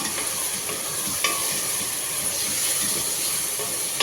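Ginger, garlic and cumin paste sizzles steadily in a hot pan, a dense hissing fry with a couple of sharp stirring clinks, close and continuous with no talking.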